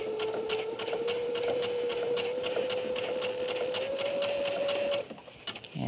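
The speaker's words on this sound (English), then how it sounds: "when you sew on the curve, it's all about your hands, which way you move your hands." A sewing machine stitches a curve on a pair of capris being remade into a skirt, giving a steady, close, continuous whirring run for about five seconds before stopping abruptly.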